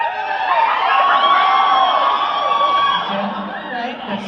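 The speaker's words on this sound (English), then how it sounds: "That sounds like a crowd." A convention crowd cheering and whooping together in one sustained, loud roar of voices with high yells, fading slightly toward the end.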